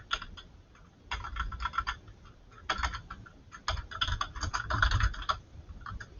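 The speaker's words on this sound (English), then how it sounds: "Then we're going to type in your first and last name" Someone types on a computer keyboard in quick, uneven bursts of close, light clicking with short pauses between runs.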